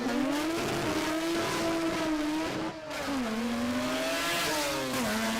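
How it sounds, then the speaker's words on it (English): A naturally aspirated 13B rotary engine in a drag car runs loud and raspy at a drag racing event, its pitch rising and falling with revving and a brief dip midway. "who doesn't want to hear a little bit of our NA cranky 13B going on here?"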